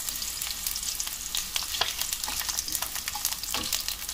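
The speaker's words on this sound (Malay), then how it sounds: "Kemudian kita goreng sosis yang telah dihiris nipis." Steady sizzling of thinly sliced sausages frying in olive oil, with crackling pops and occasional stirring scrapes throughout, close and moderately loud.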